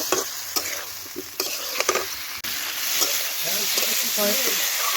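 Potatoes and cauliflower stir-fried with spices in a hot pan give a steady sizzle, with repeated scraping stirs throughout and a slight rise in frying noise toward the end.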